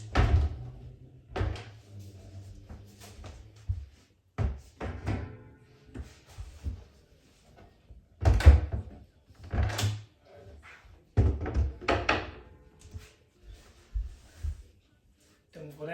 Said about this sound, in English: So we'll start off by taking the doors off,